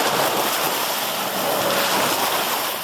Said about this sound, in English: boat waves coming in.